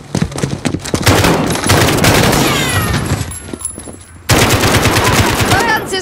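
Sustained automatic gunfire in a Call of Duty: Modern Warfare battle, loud bursts of rapid shots rattling almost continuously with a short lull before firing resumes, mixed with faint game voices.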